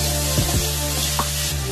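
Onions frying in a pan with salt, a dense steady sizzle close up, with a few soft scrapes and stirs over a constant background hum.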